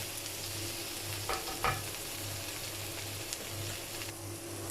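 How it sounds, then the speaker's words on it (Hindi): Boiled potato cubes being stirred with spices in a pan for street-style stuffed buns, a soft steady sizzle with a couple of brief scraping stirs, fairly quiet and close, no talking. "इसको ऐड करेंगे इसके अंदर। मिक्स करेंगे मसालों के साथ"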